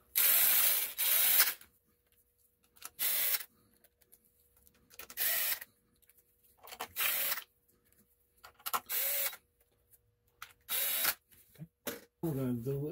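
A power drill whirs in short bursts with pauses between them, close and fairly loud, driving in oil galley gasket bolts one after another.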